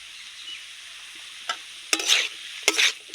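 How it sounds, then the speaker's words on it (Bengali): Green chillies hit hot oil with vegetables in a frying pan, giving soft sizzling with several sharp scraping stirs, close and fairly quiet, no voices. "এবার আমি কাঁচা লঙ্কা দিয়ে দেব।"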